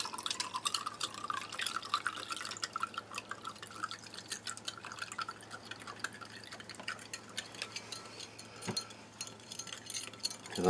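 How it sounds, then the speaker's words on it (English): Cold water trickling into a glass of ration drink mix, a faint run of drips and splashes with light glassy clinks, ending in a louder pour. "using the spoon, we should just give this a full glass of water"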